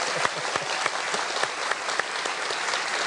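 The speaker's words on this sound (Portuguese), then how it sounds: "Uma salva de palmas para você" A studio audience claps for a guest singer on a Brazilian music programme, steady close applause with scattered sharper individual claps standing out throughout, no voices over it.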